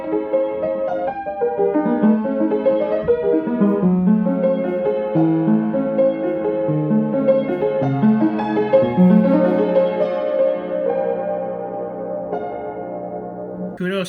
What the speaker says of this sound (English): I tried playing this piano and it sounds a little bit like this.